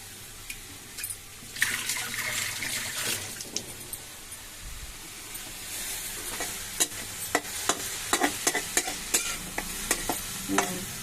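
Cabbage for roti pachadi fries in a pan while a spoon stirs it, giving a steady soft sizzle broken by repeated scraping clicks and clatters, close and fairly quiet with no talk.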